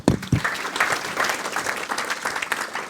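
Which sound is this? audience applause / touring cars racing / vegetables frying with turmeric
audience applause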